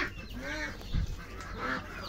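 Farmyard chickens cluck and call in several short, close vocalizations over a continuous background murmur, with one low thump partway through.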